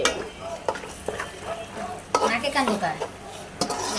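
Spices and meat sauté in a pan while a spoon stirs and scrapes in repeated strokes over a soft sizzle, close by and fairly quiet, with no voices.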